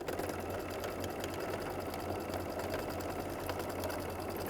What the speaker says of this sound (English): Come right here to my sewing machine.